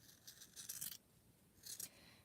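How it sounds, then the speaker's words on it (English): Scissors snip through strips of fabric for a rope basket in two short, crisp cutting bursts, close and quiet in a still room. "I'm just using scissors to cut strips"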